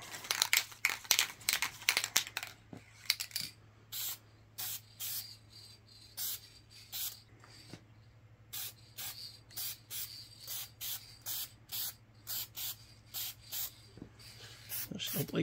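Primer is sprayed onto a 1/350 scale refit Star Trek Enterprise model in short, sharp hissing bursts, rapid at first and then at a steady, regular pace over a low constant hum.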